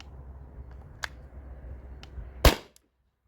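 A 20oz CO2 tank-powered marker fires a single 9.88 gram PVC-coated steel ball, one sharp close crack after faint small clicks and handling noise.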